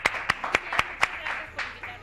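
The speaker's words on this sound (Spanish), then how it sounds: "Un aplauso para la doctora." Studio audience applause greeting a doctor guest on a Spanish-language TV talk show, heard as a short run of sharp, evenly spaced claps that soon thin into a softer patter.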